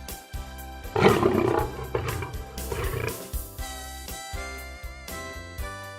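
A lion roars over steady background music, with one loud roar near the start followed by rougher, fainter grunting roars.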